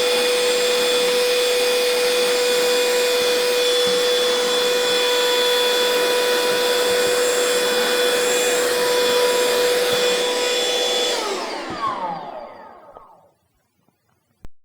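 A Bosch 12V cordless vacuum runs steadily, drawing up coarse wood bits and fine sawdust with a loud, even whine, then powers down and spins to a stop near the end.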